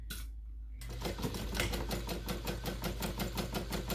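A sewing machine back stitching over a zipper while sewing a fabric pouch, running in a fast, steady rhythmic stitch after a brief quiet start, close and fairly loud.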